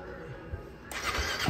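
A Royal Enfield Himalayan 450 motorcycle engine makes a cold start on a chilly morning: a brief crank and then a sudden burst into a broad, rough idle, heard close up.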